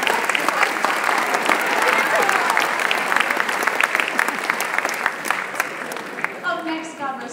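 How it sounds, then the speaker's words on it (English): Audience applause for Mike at a high school Christmas choir concert: steady, dense clapping from a large crowd filling the room, thinning and fading out near the end. "So, round of applause for Mike."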